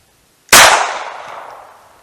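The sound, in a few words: Taurus TX22 firing Winchester Silvertip .22lr rounds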